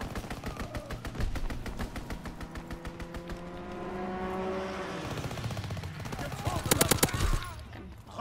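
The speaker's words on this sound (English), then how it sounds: "Fighter pilot inbound, strafing the target." A fighter plane strafing with rapid machine-gun fire in Call of Duty WW2, dense bursts of shots over a roaring engine that swells and passes, ending in a loud burst of impacts.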